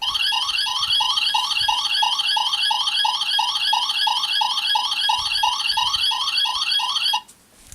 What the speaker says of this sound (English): every couple of seconds it'll do that annoying little beep sound